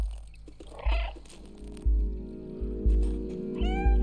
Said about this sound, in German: Drück Kreis, um zu miauen.